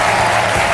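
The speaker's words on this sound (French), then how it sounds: "On applaudit fort Monsieur Bakour." An audience applauds loudly and steadily, a dense wash of clapping from many hands, brief and close, with no voices standing out.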